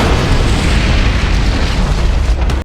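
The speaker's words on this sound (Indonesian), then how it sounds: "Mereka tidak bisa mencegah terjadinya ledakan bom di pesawat itu." A bomb goes off aboard an airplane in a TV drama, a loud, sustained roaring boom with deep rumble that fills the whole stretch before cutting off abruptly.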